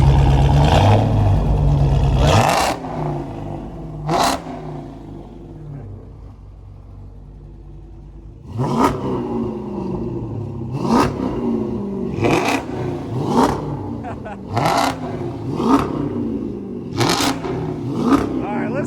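A Dodge SRT8's engine is blipped in a series of short, loud revs close by after a stretch of deep idle rumble, with people talking over it.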